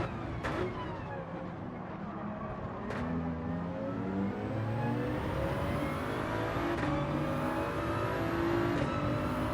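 A car engine in Gran Turismo 7 is revved hard and held in fourth gear. The steady, loud engine note climbs in pitch as it pulls uphill, with faint tyre and wind noise underneath.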